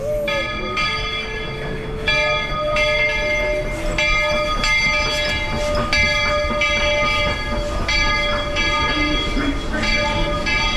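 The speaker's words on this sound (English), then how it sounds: "the Walt Disney World Railroad. All passengers, please stand by to board." A Walt Disney World Railroad train at its station, with ringing bell tones and rumbling engine noise running steadily throughout, loud and close.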